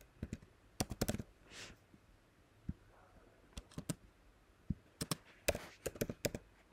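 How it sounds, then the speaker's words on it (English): Quiet typing on a computer keyboard, with short bursts of close, light key clicks separated by brief pauses. "in the search plugin here, type in WooCommerce shipment"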